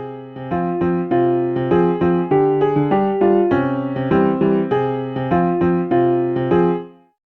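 A short synthesized melody plays back in SunVox tracker software in even, steady notes over a repeating bass pattern, clean and electronic, ending with a brief fade.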